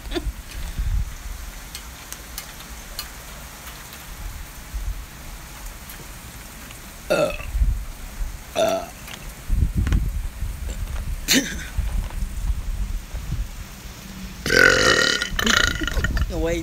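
Burps in a burping competition, several short bursts spaced across the stretch amid crackling background noise, with some talk in between.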